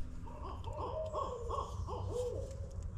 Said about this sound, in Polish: Jakieś dzikie, to sowy są?